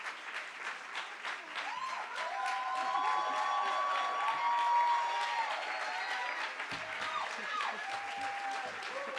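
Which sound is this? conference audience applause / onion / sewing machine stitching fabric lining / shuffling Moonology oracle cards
conference audience applause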